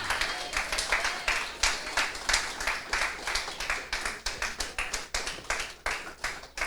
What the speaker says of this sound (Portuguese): Pode aplaudir, porque Ele é digno do teu aplauso.